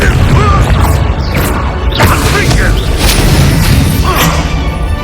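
Confringo blasting spell explosions in Hogwarts Legacy: loud booming blasts and crashes in quick succession. A voice shouts over them throughout.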